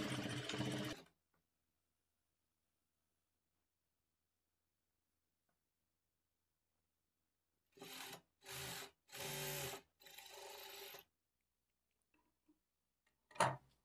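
Domestic sewing machine stitching along the double-folded edge of blouse cloth, running in four short bursts with brief pauses between them, then a sharp tap at the end; silence fills the long gap before the bursts.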